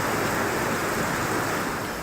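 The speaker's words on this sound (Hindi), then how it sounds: "सड़कों पर बहते पानी की वजह से शहर तेज रफ्तार नदी के जैसा दिखने लगा" Floodwater from heavy rain in Bharuch, Gujarat, rushes through the city streets as a steady, dense roar with no breaks.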